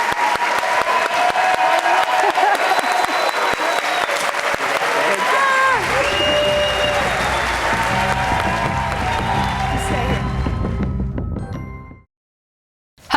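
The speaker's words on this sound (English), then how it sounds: "Give them a round of applause." An audience at a cast and filmmaker Q&A for The Mandalorian breaks into dense, sustained clapping that holds steady for several seconds, then cuts off abruptly into silence.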